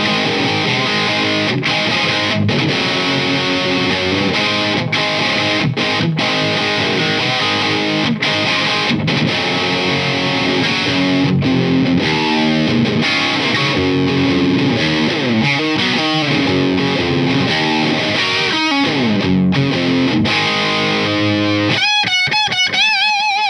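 An electric guitar plays high-gain, heavily distorted riffs through an Orange TH30 twin-channel tube amp head, loud and continuous with sharp stops between chords and a brief pitch-bending squeal at the end, with no talking.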